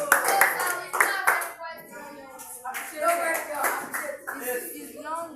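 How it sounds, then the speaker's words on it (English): Students in a mathematics class clap together in several quick bursts, close and lively, while voices talk over and between the claps. "Clap for him. Clap for him."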